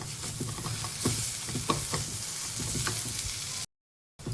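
Masala with coriander roasting in hot oil in a home Konkani kitchen gives a steady crackling sizzle broken by stirring scrapes, close and fairly quiet, with a short silent gap near the end.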